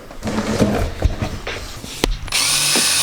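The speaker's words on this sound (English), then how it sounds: "Drilling in the pillar." A power drill whirs in short bursts while drilling holes in a 4WD's pillar to fit a snorkel, then runs steadily and loud near the end, with clatter and handling noises between bursts.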